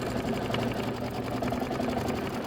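A Kimberbell embroidery machine stitches out an appliqué block, its motor humming with a continuous rapid chatter of needle strokes, loud and close throughout.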